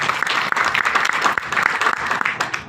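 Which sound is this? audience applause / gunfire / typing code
audience applause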